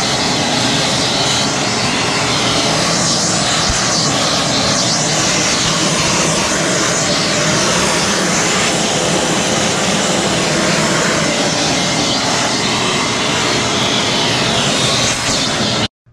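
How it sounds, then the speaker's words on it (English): A vacuum sucks up rust from a 1965 Honda CB450 K0 motorcycle, making a loud, continuous roaring whoosh that holds steady throughout and cuts off abruptly at the end. "let's finish sucking up the rest of this rust"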